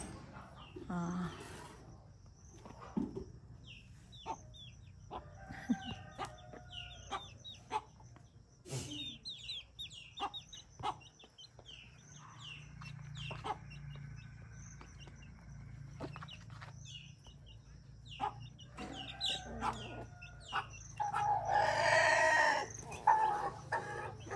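Chickens cluck and call around a farmyard, with a rooster's crow and other birds chirping in the background; fairly quiet, growing busier toward the end.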